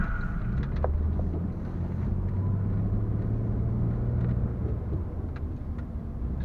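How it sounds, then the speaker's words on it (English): A Ford Thunderbird sports car rumbles past with a steady low engine drone and wind buffeting, heard from inside a vehicle by a lake where people are fishing. "Here comes the big sports car."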